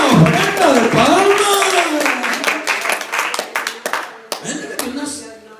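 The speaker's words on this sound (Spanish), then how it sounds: "Démosle a Él una ofrenda de palmas." Church congregation clapping hands together, a burst of overlapping claps that turns into a rhythmic, steady beat, with loud voices singing or shouting over it at the start and trailing off toward the end.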